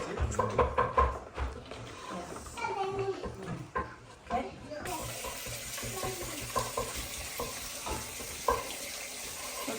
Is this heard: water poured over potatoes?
yes